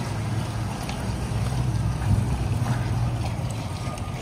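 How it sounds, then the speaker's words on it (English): Claas tractor engine humming on a busy farm, a steady low drone with windy, rushing background noise, continuous and moderately close. "Hums nicely, does that tractor?"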